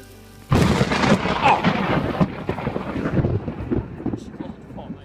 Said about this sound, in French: y a eu des orages très forts et la foudre a été enregistrée le vendredi 26 août 2016 à 13h27